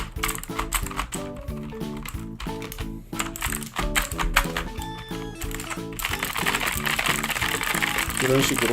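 Keys on a computer keyboard clack softly as a jelly cleaner is pressed down onto them, a light run of clicks under background music while a person talks.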